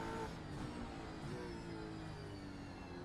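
Race car accelerating at Bathurst in a sim racing game: a strained engine note with rising harmonics, steady and fairly quiet, continuing without a break.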